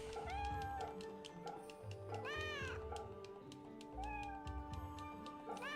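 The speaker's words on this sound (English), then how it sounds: "Neko da na." A cat meows in the video game Fate/Samurai Remnant, with a few clear, drawn-out meows over quiet game music and soft ticking, with no talk.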